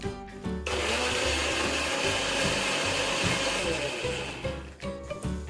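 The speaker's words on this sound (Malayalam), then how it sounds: "ജ്യൂസ് അടിക്കാം" A blender whirs loudly and steadily for several seconds, blending gooseberries, mint leaves, salt and water into juice, starting abruptly and cutting off near the end.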